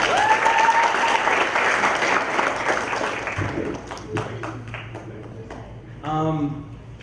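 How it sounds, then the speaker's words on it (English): A youth gathering's audience applauds itself in a loud burst of many hands for about three seconds, then it fades out as voices and a few stray claps take over. "I'd really just like you guys to give a round of applause for yourselves right now"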